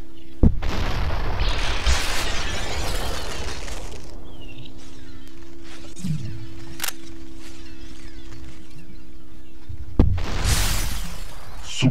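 Gunfire from a new gun in the video game SUPERHOT comes as two heavy, booming shots, one at the start and one near the end, each trailing a roar of noise, with a low steady hum between them.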